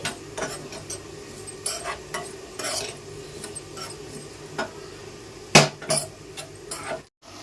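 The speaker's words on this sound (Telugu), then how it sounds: "మసాలాలు మాడకుండా వేపుకోవాలండి, స్టవ్ సిమ్లో పెట్టుకుని." Whole spices fry gently in a pan over a low flame. A soft sizzle runs underneath while a spoon clinks and scrapes against the pan again and again, with no talking.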